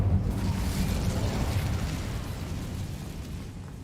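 A fire spell blast cast in a wizard video game, rendered as a loud, sustained roaring burst of low rumbling flame that slowly tapers off over a few seconds.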